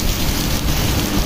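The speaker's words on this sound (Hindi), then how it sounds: "बारिश देखिए भाई क्या बारिश हो रही है" Heavy rain pouring at Kathua railway station, a loud dense unbroken roar of downpour hitting surfaces, close and steady with no voices.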